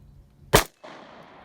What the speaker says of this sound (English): On this round, we're going to do a delayed blowback, 9mm, no silencer.